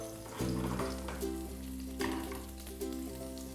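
Raw shrimp finishing cooking in a hot pan give off a steady close sizzle and crackle, with occasional stirring clatters and no talking.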